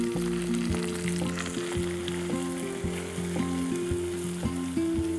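One cup of semolina fries in about three tablespoons of desi ghee and oil for suji ka halwa, a loud, continuous close sizzle with occasional stirring and a steady tonal hum underneath.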